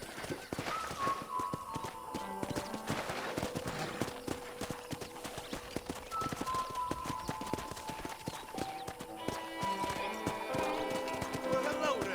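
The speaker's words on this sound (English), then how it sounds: "let's see if you can still ride a horse" Rhythmic hoofbeats of a ridden horse clip-clop steadily around a ranch in Red Dead Redemption, with a whinny, game music tones and voices talking over the steps.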